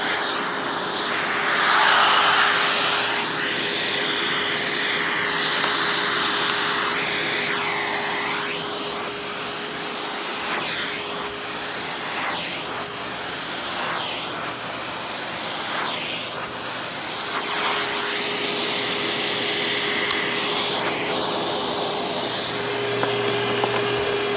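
A Hoover WindTunnel Plus S3639 canister vacuum runs with its upholstery tool fitted, giving a steady, loud broadband whoosh and motor hum that holds throughout, with the airflow shifting in pitch as the nozzle moves.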